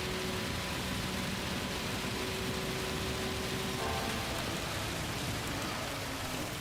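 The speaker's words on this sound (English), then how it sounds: "This is the rain that never ends." Rain in the Gran Turismo racing game falls as a dense, unbroken hiss across the whole stretch, with faint hums of car engines blending into the downpour.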